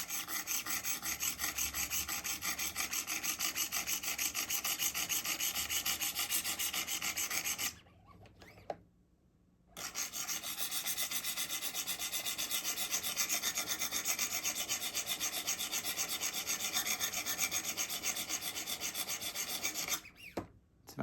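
Wicked Edge sharpening stones rasp steadily along a Benchmade Tonto knife blade in long, even strokes, close and dry, with a brief pause midway and another near the end.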